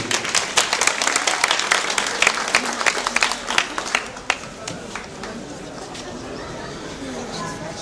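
A crowd applauds loudly with dense clapping and cheering chatter, then the clapping fades away into a softer room murmur.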